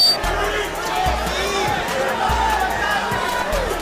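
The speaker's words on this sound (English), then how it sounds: "you hear the crowd reacting" Arena crowd murmuring and reacting at a boxing match, a steady babble of voices and scattered shouts mixed with thudding knocks, under nearby talk.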